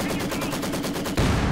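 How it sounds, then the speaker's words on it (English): German mortar firing in a Company of Heroes 2 battle, set in a dense wash of repeated gunfire and explosions, loud and continuous, with a heavier burst near the end. "Now out here, the mortar of the Germans firing."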